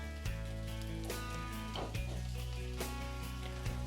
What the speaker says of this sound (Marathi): हा मसाला आता आपण एकदा चांगला परतून घेऊ